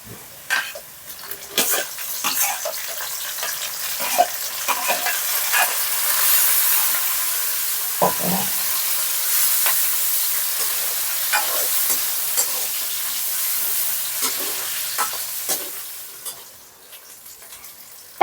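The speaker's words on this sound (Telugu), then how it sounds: "ముందుగా తరిగి పెట్టుకున్న టమాటా ముక్కలు వేస్తున్నా" Chopped tomatoes land in hot oil with browned onions and curry leaves for a gongura crab curry, giving a steady, loud sizzle and hiss broken by occasional stirring scrapes against the pan.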